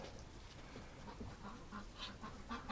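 Muscovy ducks, including a white male, gathering in a barn looking for food in winter, soft scattered quacks and low murmuring calls at a moderate distance over a steady background hiss.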